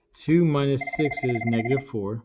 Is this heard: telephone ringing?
yes